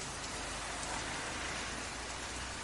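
Steady, dense rainfall as a continuous even hiss with no breaks, filling the whole moment at a constant loudness, no voices.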